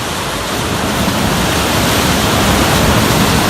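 Ocean swell surging against a rocky jetty break wall off Southern California, a continuous loud roar of churning water and surf with no voices.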